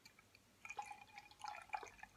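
Beer poured from a 330ml bottle trickles and splashes into a glass in a quiet room, faint close liquid gurgles and drips over about two seconds, no talking.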